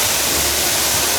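The roar of a huge waterfall at Furong, China, heard from directly beneath it. It is a loud, steady, dense rush of falling water that completely fills the sound with no break and no voices.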